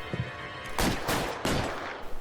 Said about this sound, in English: mais tiroteiro